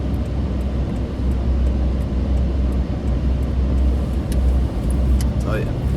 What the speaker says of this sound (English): it's like a car coming